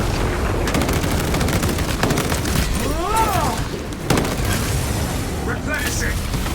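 A melter bomb goes off in a video game with a heavy boom and crackling, gunfire-like bursts, followed by a short warbling whine, all loud and dense against a busy battle backdrop.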